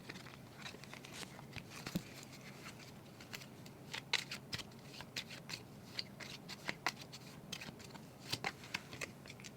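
Career oracle cards are shuffled by hand at close range, a quiet run of soft, rapid flicks and riffles.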